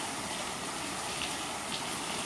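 A stream rushes and splashes near a waterfall in Minas Gerais, Brazil, a loud, steady, broadband roar of flowing water close by.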